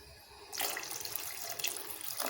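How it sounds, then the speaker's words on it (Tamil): Water rinsed from a blender jar is poured into a pan of mushroom salna, a spiced South Indian gravy. The pour starts abruptly and runs as a steady, close splashing stream for about two seconds. "இன்னும் கொஞ்சம் தண்ணி ஊற்றிக்கலாம்."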